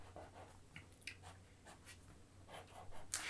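A felt-tip pen sketches lines on paper, giving soft, scratchy strokes in short irregular bursts, quiet and close, with faint background hum and no voices.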